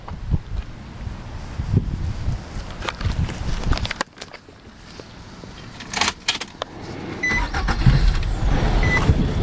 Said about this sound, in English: when I start the vehicle